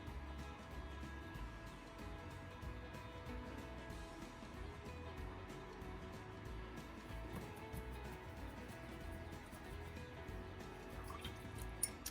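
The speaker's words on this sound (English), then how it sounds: "Wash my brush off." Paintbrush being rinsed in a water cup during a daffodil painting, giving soft, continuous dripping and swishing liquid sounds close by with no talking.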